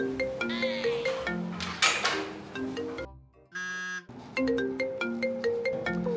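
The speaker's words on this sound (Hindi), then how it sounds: "इसी के बैग में फोन बज रहा है" A melodic phone ringtone plays repeatedly from inside a bag, loud and close with a muffled edge, briefly interrupted by a different electronic tone before the tune resumes.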